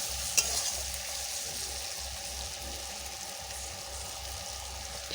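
Spiced chicken pieces are stir-fried in a pan, a dense close hiss of frying over a low steady hum, with a faint clink at the start.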